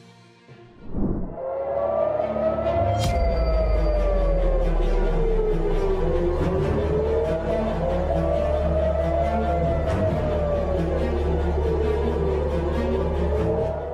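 Loud air raid sirens wail across Israel and Jerusalem in slow rising and falling cycles, sustained and droning, with a low rumble beneath.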